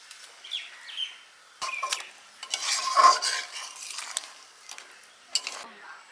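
Eggs go into a pan for dim posto, a Bengali egg and poppy-seed dish, followed by stirring: scraping utensil strokes and soft frying hiss come in irregular bursts, close and moderately loud, with no talking.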